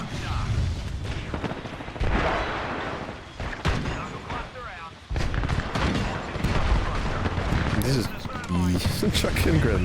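Grenades and gunfire burst repeatedly in an online shooter game, dense booming explosions and crackling shots layered continuously under excited players' voices.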